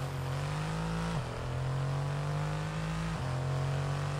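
A Mercedes-AMG GT R Pro safety car engine in F1 22 holds a steady, loud, droning mid-pitched hum on a hotlap, with two brief dips where it shifts gear before settling back into the same note.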